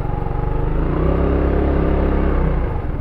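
An FKM maxi scooter motorcycle engine rumbles up close, a loud, low, throbbing drone that holds steady and then dips near the end.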